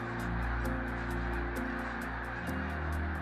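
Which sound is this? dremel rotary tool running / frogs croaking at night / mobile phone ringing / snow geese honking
snow geese honking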